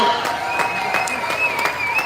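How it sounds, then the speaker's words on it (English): Applause from a crowd at the San Antonio stock show and rodeo, steady clapping with a faint sustained tone running through it. "Let's give a round of applause, San Antonio."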